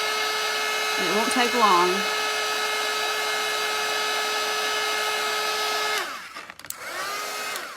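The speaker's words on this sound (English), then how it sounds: "I'm going to go ahead and take my blow dryer and I'm going to dry that real quick." A handheld blow dryer drying paint on faux dogwood flowers made from coffee filters gives a loud, steady whine. A brief spoken remark rides over it before the dryer cuts off and briefly starts again.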